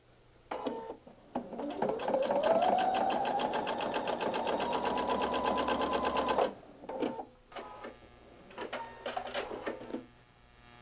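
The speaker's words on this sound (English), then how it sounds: "take it over to my machine and sew up with a 1/4 inch seam allowance" Sewing machine running steadily for about five seconds as it stitches a quarter-inch seam in quilt fabric for a pinwheel table runner, with short bursts of stitching and clicks before and after, close and fairly loud.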